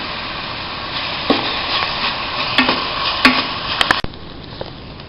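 Onions sautéing with half a teaspoon of salt in a pan for a squid roast, giving a steady soft sizzle with occasional spoon scrapes and light clicks, no voices.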